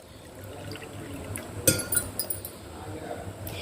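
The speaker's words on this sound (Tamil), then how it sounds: "இதில் ஒரு கப்பு தண்ணி ஆட் பண்ணிக்கலாம்" Water is poured into a cup of jaggery in a kitchen, a sharp clink of the cup followed by a short trickling splash against a low steady background hum.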